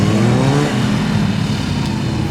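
Honda CMX 500 Rebel motorcycle engine running at a motorcycle gymkhana event, a loud close throbbing engine rumble that holds steady and eases slightly.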